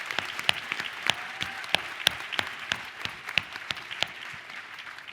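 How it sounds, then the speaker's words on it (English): Applause from an audience at a Women in Trade program, a steady bed of clapping punctuated by several sharper, close individual claps standing out at irregular intervals. "let's give a big round of applause for all of these panelists"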